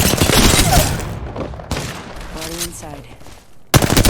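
Rapid gunfire bursts out in an Apex Legends match, with sharp volleys at the start and end and a player talking in between.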